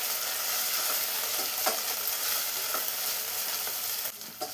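Onions with ginger garlic paste sautéing in a pan for Kerala-style chicken kurma, a steady low sizzle with a few soft scraping stirs, close and continuous without any talk.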